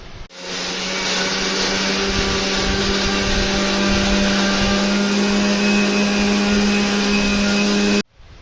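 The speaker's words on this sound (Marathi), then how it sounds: "मम्मी आता मिक्सरमध्ये घेत घेत आहे वाटू" A mixer grinder grinds masala for a Malvani-style chicken curry, giving a loud, continuous close-up whir that starts abruptly and cuts off after about eight seconds.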